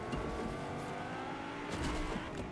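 A Lamborghini in the game Fortnite drives along with a steady engine drone and road rumble, mid-distance and continuous, with a faint tire hiss near the end and no talk.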